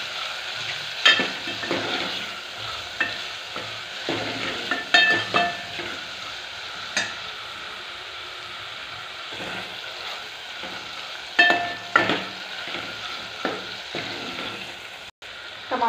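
Red chili powder being stirred into a sizzling dal tadka in a pan, with steady frying hiss and repeated soft scraping strokes of the spoon, close and continuous throughout without talk.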